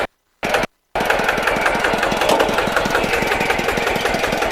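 A used farm tractor engine idles steadily with a rapid, even knocking pulse, loud and close, after two brief silent gaps at the start.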